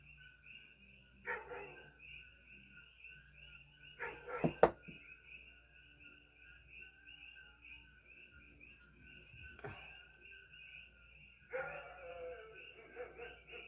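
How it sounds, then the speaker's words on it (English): Distant dogs bark in short bursts a few times, faint against a quiet background with insects chirping steadily throughout. "They're barking at their shadows. And it's making my dog bark at his shadows."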